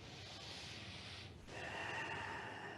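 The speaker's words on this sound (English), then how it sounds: "Long, deep breathing." Long, deep breathing during a Kundalini yoga session: a soft, slow inhale and exhale with a brief pause between, quiet and close, with no talking.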